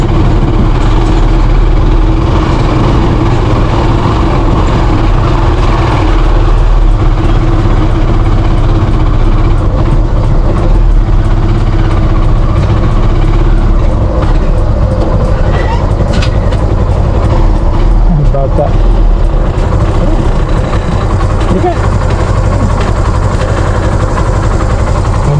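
Motorcycle engine running on a rural farm road, a loud, steady low rumble that stays constant throughout, with voices faintly underneath.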